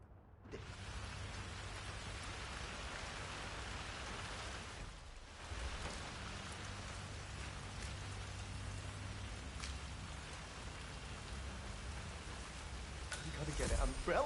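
Steady rain falling in the video game Hitman 3, a dense, continuous hiss that fills the whole stretch, with a brief dip midway and swelling louder near the end.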